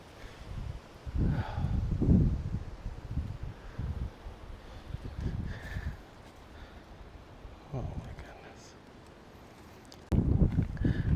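Strong storm winds from Storm Kristin gust outdoors at a home in Portugal, with loud, rough buffeting bursts that rise and fall and surge hard again near the end.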